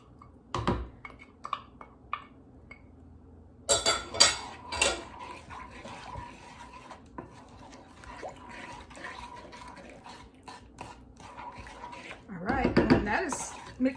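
Homemade hot roll dough ingredients being stirred in a bowl as yeast mixture is added, with clinking of utensil against the bowl and liquid sloshing, a louder burst of mixing near the end, and a person talking throughout.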